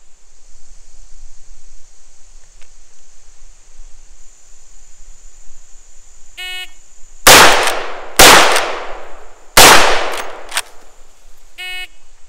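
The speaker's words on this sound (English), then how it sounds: "this time I'm going to have 5 seconds to fire 2 shots to the body and 1 shot to the head" Three loud, sharp rifle shots from a Marlin 1894 lever action carbine crack out on a tactical course, two close together and the third after a brief cycling gap, each ringing off, with electronic shot-timer beeps before and after.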